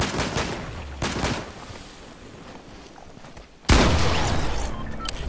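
Pistol gunfire traded between two teams in the video game Fortnite, heard as a couple of sharp shot bursts near the start, a quieter stretch, then a loud close burst of shots and clatter near the end.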